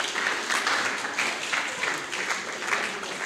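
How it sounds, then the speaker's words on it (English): An audience at a lecture series event claps for its sponsors: a short, dense burst of many hands applauding together, moderately loud and steady. "Let's give a round of applause for our sponsors"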